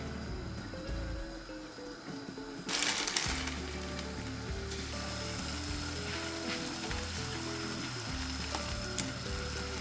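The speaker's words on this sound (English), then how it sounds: "Bubbling all over the sides." Dakgalbi with vegetables bubbles and sizzles in a pan, a continuous close frying hiss with popping bubbles and a brief louder burst partway through.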